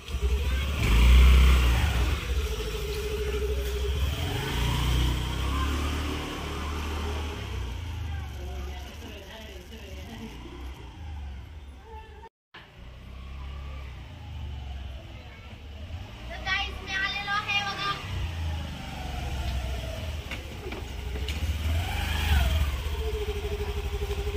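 A vehicle engine hums steadily during a ride, rising and falling as it accelerates and slows, close and continuous, with a brief dropout partway through.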